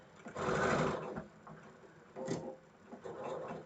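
A sewing machine runs close by as a quilt block is stitched, first in one longer whirring burst, then in shorter intermittent runs with light ticks and clicks between them.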